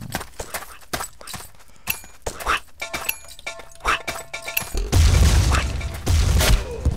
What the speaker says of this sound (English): Let's go ruin their fun with a grenade.